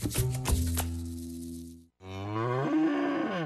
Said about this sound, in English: This is a cow whose milk became everyone's favorite cheese at the craft fair.